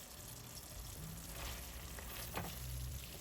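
Spices with sliced ginger, green chili and coriander leaf are stirred in clarified butter in a frying pan for a gola kebab karahi masala. The sizzle is quiet and steady, with faint scraping from stirring and no talk.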